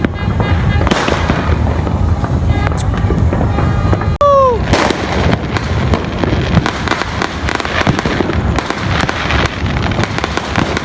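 Dense, continuous crackling of firecrackers and fireworks going off in rapid bursts, loud and close, with a whistling rocket rising briefly midway.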